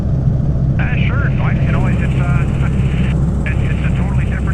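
A 1942 Tiger Moth biplane trainer droning steadily in flight, its engine a continuous loud rumble with wind noise, while a person talks over it throughout.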